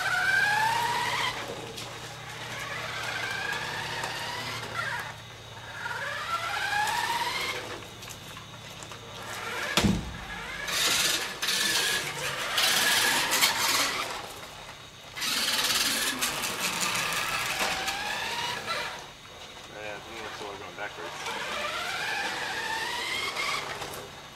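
A remote-controlled RC car whines at high pitch as it speeds up, slows and changes direction. Its tires skid and scrub on the surface, and a sharp knock lands partway through, all close and moderately loud.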